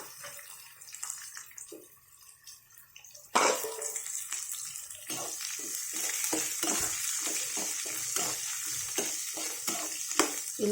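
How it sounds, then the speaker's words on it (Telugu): Chopped onions tossed into hot oil for puffed rice upma set off a sudden loud, steady sizzle, after a quieter stretch of stirring. Repeated scraping and stirring strokes run through the frying. "ఇది కలిపిన తర్వాత ఉల్లిపాయలు వేస్తున్నాను"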